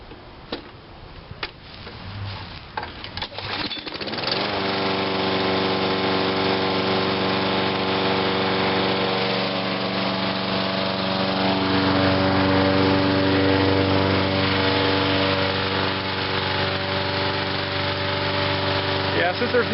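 A lawn mower being winterized, running on fuel left only in the line, is pulled and started after a few seconds of clattering, then drones at a steady loud idle until the end.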